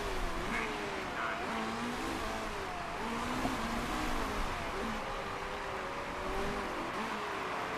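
Race car engine note from a lap of an endurance series race in the Motorsport Manager video game, a continuous droning, shifting whine with no talk over it.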